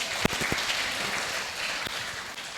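A church congregation at a Simbang Gabi dawn Mass claps loudly together, a close, full burst of applause with a few sharp individual claps standing out.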